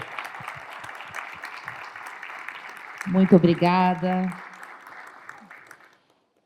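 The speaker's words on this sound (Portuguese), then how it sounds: "Recebam aplausos calorosos" Warm applause from a standing conference audience at a business and industry panel on tax reform, steady clapping throughout, with a voice briefly speaking over it midway before the clapping fades out.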